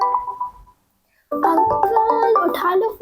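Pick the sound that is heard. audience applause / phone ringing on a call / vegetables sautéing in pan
phone ringing on a call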